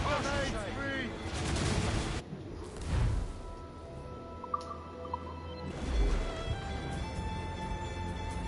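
Ship cannons bombarding in Assassin's Creed Rogue, a few heavy booming volleys spaced apart amid rumble and crackling, with voices talking over the din between shots.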